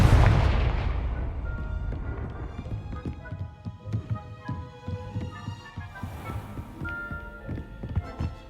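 A Confringo blasting spell from Hogwarts Legacy erupts in a heavy boom at the start, then gives way to a steady run of close, rhythmic thumps and clattering game effects.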